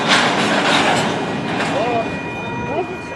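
A train rolls along railroad tracks at an Omaha railroad festival, a loud continuous rumble with faint wheel squeals, while people talk nearby.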